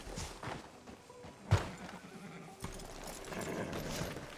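A horse in Red Dead Redemption 2 whinnies and clip-clops along at a walk, with a sharp thunk partway through and faint game ambience, fairly quiet.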